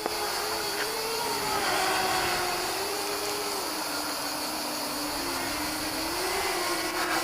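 Floureon Racer 250 racing drone flying outdoors, a steady high-pitched motor whine that rises and falls slightly as the throttle changes, continuous and fairly close, with no talking.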